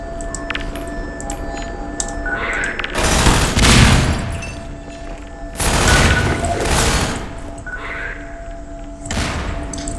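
Grenades explode in Half-Life 2: three heavy, roaring blasts, loud and close, each rising and decaying over about a second, spaced several seconds apart over a quiet background hum.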